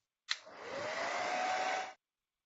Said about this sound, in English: This is using a hairdryer at full blast while talking